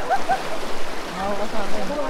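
Strong waves crash and splash at the Talon ni Eva waterfall in Doña Remedios Trinidad, a loud, continuous close rushing of water with people's voices over it.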